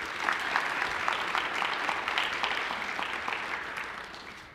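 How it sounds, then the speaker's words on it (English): Steady, full applause from a seated audience at a student awards ceremony fills the room evenly from start to finish, a dense wash of many hands with no voices on top. "So let's please give him a round of applause."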